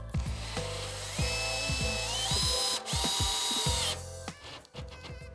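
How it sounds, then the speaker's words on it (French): Close, repeated whirring bursts from a cordless screwdriver driving screws into a plasterboard ceiling, the motor pitch sweeping up and down with ratcheting clicks between pulls, the screws stopped short of fully home. "je visse pas à fond là"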